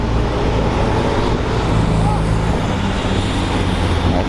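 Supercars including a Ferrari, a Lamborghini, a GTR and a Liberty Walk car driving a mountain road at Chamrousse, heard as a loud, steady roar of engines and road noise with a faint murmur of voices.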